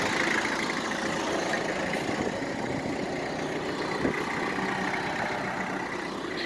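A farm tractor engine idles steadily and continuously at moderate distance, a constant mechanical drone with no speech over it.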